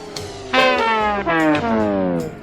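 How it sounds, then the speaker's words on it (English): A record player winding down, its tones sliding steadily lower in pitch as the turntable slows, heard alone and fairly loud for a couple of seconds. "That's actually a record player slowing down."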